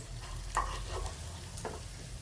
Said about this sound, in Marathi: आता राहिलेले मी असेच फ्राय करून घेते।